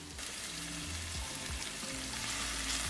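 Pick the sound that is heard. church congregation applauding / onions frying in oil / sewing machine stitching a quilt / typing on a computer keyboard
onions frying in oil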